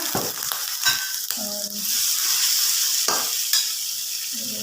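Vegetables for a soup, including green chillies and white radish, sizzle and fry in a pan while a spoon stirs them in several scraping bursts, close and fairly loud.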